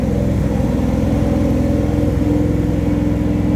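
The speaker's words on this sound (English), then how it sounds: "it's all about that exhaust note." Harley-Davidson motorcycle exhaust note, a loud, deep, steady idle with a rhythmic low-pitched rumble, close by and alone without talk.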